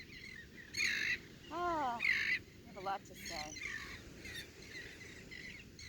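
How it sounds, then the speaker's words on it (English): Loud birds call at the beach, several bright cawing and chirping bursts in an irregular series over a low steady background, with someone speaking softly between them. "Boy, the birds are loud today."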